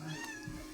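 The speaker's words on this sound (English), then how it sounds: "Do you want to have a conversation about this cat?" A cat meows once, a faint, drawn-out wavering cry in an indoor room, heard alone with no talk.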